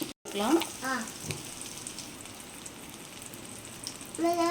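Garlic, ginger and green chilies frying in hot oil in a pan, giving a soft steady sizzle with brief crackling bursts near the start and end.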